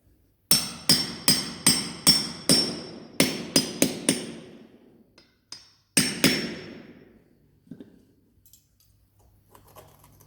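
A hammer strikes a punch through carpeted stair nosing into the concrete step below. About a dozen crisp, close blows land in a quick, steady rhythm, then a few scattered taps follow before it goes quiet. No one speaks.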